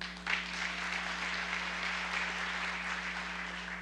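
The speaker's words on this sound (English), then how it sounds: "They deserve a round of applause." Applause from an audience at a formal benefit dinner honoring sponsors, fairly faint and distant, a steady wash of clapping lasting several seconds.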